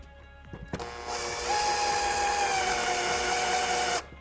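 A power drill drives a screw into a retractable screen unit with a brief click, then a loud, close, steady whine that rises in pitch and holds for about three seconds before cutting off.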